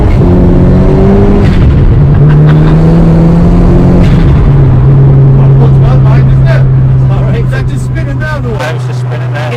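A Vauxhall Corsa B pulls hard along a damp road, its engine droning loud and steady as the pitch holds and shifts, with people talking over the noise inside the car.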